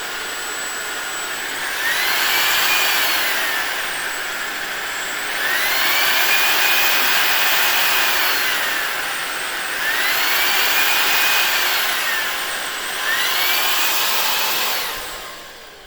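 Ultenic U16 Flex cordless stick vacuum cleaner running alone, a steady high-pitched motor whine with airflow hiss that rises and falls in loudness in repeated surges, close and loud throughout.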